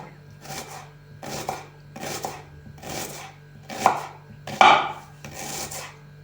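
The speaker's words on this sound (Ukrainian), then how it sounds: "Дві середні цибулі нарізаємо соломкою." A knife slices two medium onions into strips on a cutting board, giving seven steady, evenly spaced chops with a soft scraping texture and no talk.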